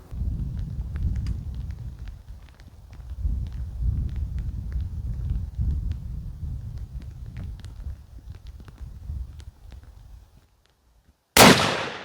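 A rifle gunshot fired at a bear from about 658 yards, one sudden loud crack near the end after a stretch of low wind rumble, with the blast decaying quickly.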